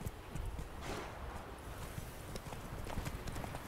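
Roach the horse gallops in the Witcher 3 video game, hooves clip-clopping in a quick steady rhythm over a continuous dense background, moderately loud and close throughout.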